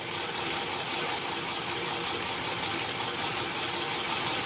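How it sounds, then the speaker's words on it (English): A vintage Singer hand crank sewing machine is cranked by hand, giving a steady, even whirring and rattling that runs loud and close for the whole stretch, with no voices. "hold on to the hand crank, push it away from you, and this wheel will start spinning this way."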